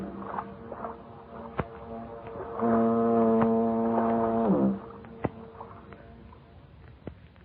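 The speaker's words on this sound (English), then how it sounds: "that symphony of foghorns booming across the bay" A single deep, sustained foghorn blast across San Francisco Bay near the Golden Gate sounds for about two seconds, surrounded by faint scattered clicks and distant ambient noise.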